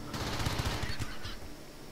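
Gunfire in the RimWorld video game comes as a quick string of faint, rapid shots, bunched into bursts over about a second, then a few scattered pops.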